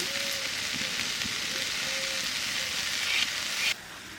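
Cabbage frying in oil in a home kitchen pan, a steady close sizzle with faint crackles and spatter that holds evenly before dropping off near the end.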